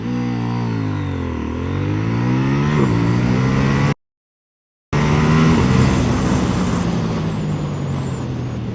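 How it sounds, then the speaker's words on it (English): A CFMoto 800NK motorcycle accelerates hard on a 0-100 run. The loud engine note climbs steeply through the revs and dips briefly at gear shifts, with wind rush and a short dropout to silence midway. "We're gonna accelerate a little bit more aggressively."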